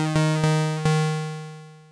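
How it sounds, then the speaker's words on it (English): Pulse width modulation tone from an Elektron Monomachine synthesizer, three sharp note attacks in quick succession, each ringing and decaying into a sustained buzzy tone, close and alone. "you probably heard of pulse width modulation if you've been around synthesizers for a while"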